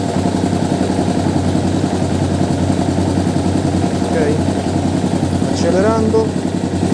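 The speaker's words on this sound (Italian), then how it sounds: "Questo è il minimo con motore con luci spente." A motorcycle engine idles with its lights off, a steady, even putter close by, while someone speaks over it briefly.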